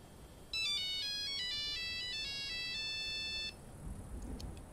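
A Nokia ringtone plays in a Halo Reach machinima scene, a bright looping electronic melody that starts suddenly, runs loud and steady for about three seconds, then stops, leaving low background rumble.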